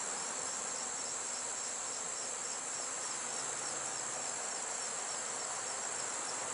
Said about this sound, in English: Look at these bees on this frame.